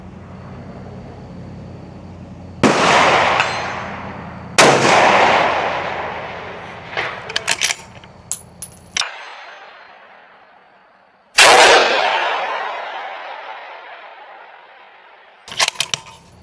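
Rifle shots, a 6.5 Creedmoor and a 6GT, crack at an outdoor shooting range, several sharp close reports each trailing off in a long echoing decay, with a couple of fainter clicks between them.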